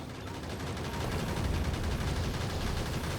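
Gun turrets in Factorio firing nonstop, a dense, even rattle of rapid shots layered over a steady background of machinery, moderately loud throughout.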